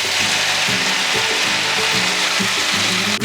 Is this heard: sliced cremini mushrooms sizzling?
yes